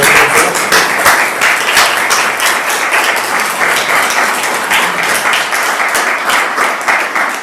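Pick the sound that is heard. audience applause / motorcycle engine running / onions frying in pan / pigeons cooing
audience applause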